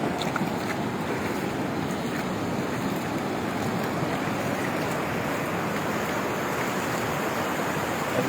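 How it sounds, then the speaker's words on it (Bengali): Big cyclone-driven sea waves pound Cox's Bazar beach in a steady, dense roar, with constant wind buffeting the microphone and no voices. "শুকনা দেখো শুকনা অনেক বড় ঢেউ হয়েছে"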